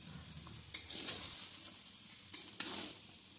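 A spatula stirs veg fried rice with ghee and sugar in a hot pan, soft sizzling running throughout, punctuated by a few sharp scrapes and clinks against the metal.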